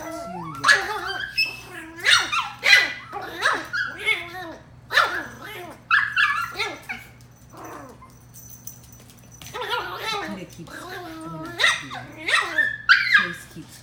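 Chihuahua puppies playing together up close, with a busy stream of high yips, squeaky whimpers and short barks in quick bursts and a brief lull midway.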